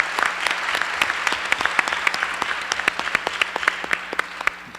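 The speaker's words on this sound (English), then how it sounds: "Give yourself a little bit of applause for that." Audience at a Williams College welcome address for the class of 2018 breaks into steady applause, a dense wash of hand claps with sharper individual claps standing out, holding throughout and fading slightly at the end.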